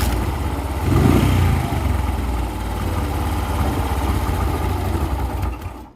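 An old motorcycle engine with low compression idles close by with a rough, steady low chug, briefly revving before settling and then cutting off at the end.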